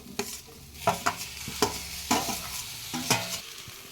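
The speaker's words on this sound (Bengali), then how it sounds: "এবার ভেজে রাখা সবজিগুলো এখানে দিয়ে দিচ্ছি" Fried vegetables tipped into a pot of khichuri on the stove, with a spatula scraping and stirring in sharp strokes about every half second over a steady low sizzle. No one talks.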